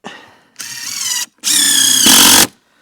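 A power drill drives a screw into a floor joist during a garden studio base and floor build, with a short whir and then a longer, louder whine that rises in pitch before cutting off, close and loud.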